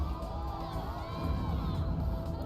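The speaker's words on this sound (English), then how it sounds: "I think some of the kids are cheering" Children cheer and shout as a crowd in a cutscene from Danganronpa: Ultra Despair Girls, a busy, continuous wash of excited young voices with rising and falling calls layered over background music.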